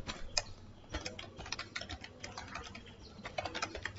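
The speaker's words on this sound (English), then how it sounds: "so you don't worry about what I'm just typing right over here" Rapid, uneven clicking of keys on a computer keyboard as code for a bubble sort program is typed, steady and close with no talking.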